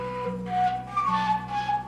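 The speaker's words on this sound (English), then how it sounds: "Got a little whistle." A melodic whistle with sustained tones sliding between pitches, repeated in short phrases over a steady low backing beat.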